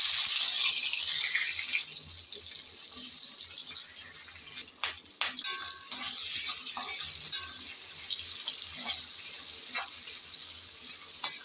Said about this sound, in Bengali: এবার এই চিংড়ি ভাজার তেলে দিয়ে দেব পেঁয়াজ।